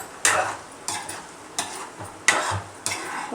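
Spices for pickle being stirred in a pan, with five evenly spaced scraping strokes of a spoon over a light sizzle, close and clear.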